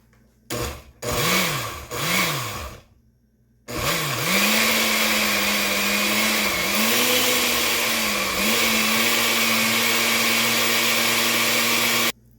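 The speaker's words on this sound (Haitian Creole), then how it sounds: "N'a commencé blender li." A kitchen blender whirs through a herbal remedy mixed with two cups of cane syrup, starting with two short pulses, then running steadily and loudly for several seconds with its pitch dipping as the load shifts.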